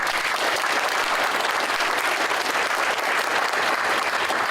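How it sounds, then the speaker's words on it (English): Dense, loud audience applause at an economic innovation summit, a full steady roar of clapping from a large crowd, sustained from start to finish without speech. "Not until you get a big round of applause, Rick."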